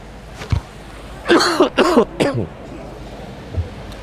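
A single short cough, followed by a cluster of harsh throat-clearing rasps, then a faint cough near the end, with quiet room tone between.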